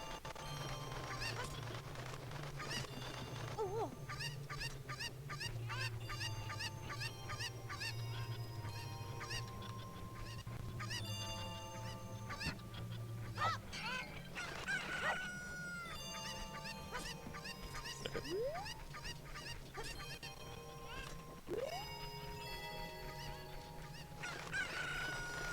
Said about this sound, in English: So she has 7 Cocos, which are just chickens.